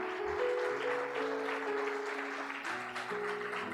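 A church congregation applauds during a worship service, a steady wash of clapping under sustained organ-like keyboard tones that continue throughout.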